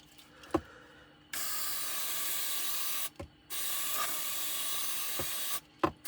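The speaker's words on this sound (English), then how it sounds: "we'll see if we can actually clean it with some electrical contact cleaner as well" Electrical contact cleaner sprayed into a Shark cordless vacuum in long, loud, steady hissing bursts, close up, with short pauses and faint knocks between sprays.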